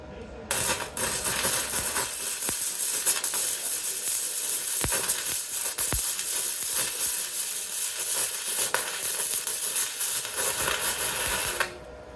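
A cheap Temu welder bonding a metal piece, a loud continuous crackling buzz with sharp pops, steady for about eleven seconds before it cuts off abruptly.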